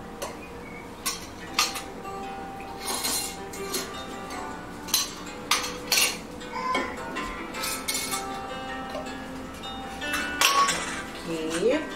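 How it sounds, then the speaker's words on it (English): Lids come off glass jars and are set down for a rainbow walking water milk experiment, with scattered sharp clinks and clatters of lids and glassware over a steady low background. "We open the lids"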